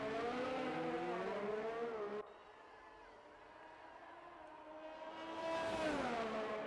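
A Ferrari race car engine in a racing video game drives past loud at high revs, dropping away abruptly mid-clip, then rising again with a climbing whine as another car approaches on an Austrian track.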